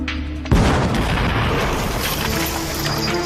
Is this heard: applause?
no